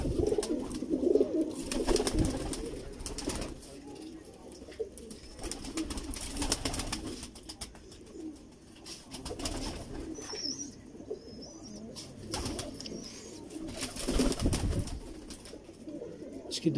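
Pigeons in a fancier's loft coo repeatedly with low, throaty calls, close and fairly loud over a busy background.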